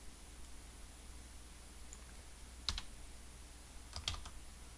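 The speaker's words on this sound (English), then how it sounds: "I can just start typing." A few faint, sparse keystrokes on a computer keyboard in a quiet room, two short clusters of clicks over a low steady hiss.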